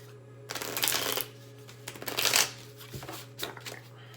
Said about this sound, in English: About new decks, they're kind of hard to shuffle because they're still sticking to each other.